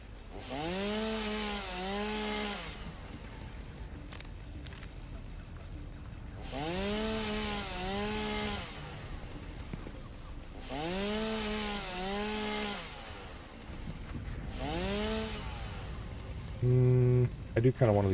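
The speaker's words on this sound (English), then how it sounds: "I too commonly use my chainsaw to clear up flowers." A chainsaw in a video game cuts down flowers and plants, revving in four long buzzing bursts about two seconds each, loud and close, with short pauses between them.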